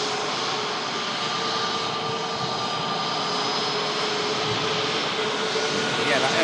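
An airliner on a possible test flight near Manchester airport passes as a steady, moderately distant jet roar with a broad, even rumble throughout.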